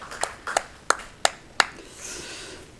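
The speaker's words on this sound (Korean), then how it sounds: "우리의 찬양의 고백을 받아주신 하나님께 영광의 박수를 올려드리겠습니다" Scattered hand claps from a church congregation during Sunday worship, about five sharp separate claps spaced roughly a third of a second apart, close and crisp, then fading into quiet room sound.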